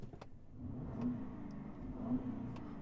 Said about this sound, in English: And now, only thing left is to rev it up.